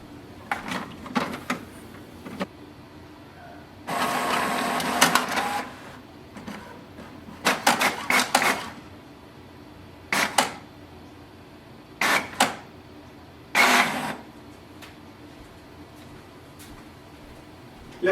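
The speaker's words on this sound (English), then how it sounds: "So this automatic cleaning will take around a minute. It will use some of the ink and then it will print a page." HP OfficeJet Pro 8210 printer running automatic printhead cleaning, with bursts of mechanical whirring and carriage movement separated by quiet gaps, fairly close and moderately loud.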